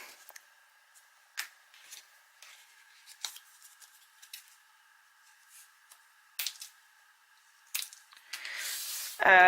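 Folded paper hinges for a handmade mini album cut with scissors, faint scattered snips and paper rustles at a slow uneven pace, ending with a louder burst of rustling handling.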